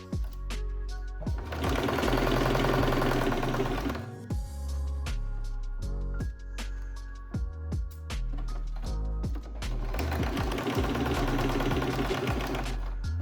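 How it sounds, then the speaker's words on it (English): A sewing machine stitches the edges of a quilted tote bag with a 1 cm seam allowance, running in two sustained, steady bursts separated by a quieter stretch of clicks and handling noises. "Sew along the edges using a 1 cm seam allowance"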